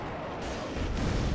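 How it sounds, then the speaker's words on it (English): An enemy in the video game Dark Souls 3 shoots fire, making a loud, dense roaring blast that swells partway through and runs steadily to the end. "Ah, he's shooting fire at me already."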